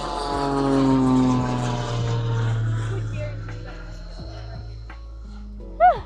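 A propeller airplane flies in to land over the Spruce Creek fly-in residential neighborhood, its droning engine dropping in pitch and slowly fading as it passes, with a brief chirp near the end.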